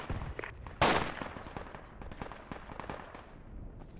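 Gunfire in the military shooter Project Reality, one sharp nearby shot followed by a dense crackle of scattered distant shots.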